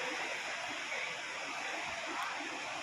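Rainwater pours steadily into a house damaged by rain, a continuous close rushing and splashing wash with no breaks.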